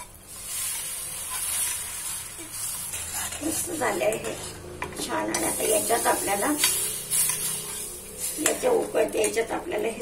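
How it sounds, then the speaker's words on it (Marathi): Hot oil crackles and sizzles as spices hit the pan, with a spoon scraping and stirring and a voice talking over it. "आणि याला घालूया आपण फोडणीला"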